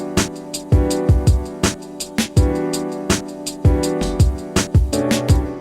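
A programmed hi-hat pattern with every other note's velocity dropped to 50 gives a chugging loud-soft pulse, layered over punchy kicks and other beat elements in a steady repeating groove.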